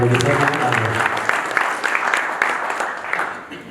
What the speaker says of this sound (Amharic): እስቲ ትልቅ እልልታ ጭብጨባ ከቻሉ